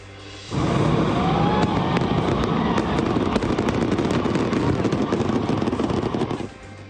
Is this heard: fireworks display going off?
yes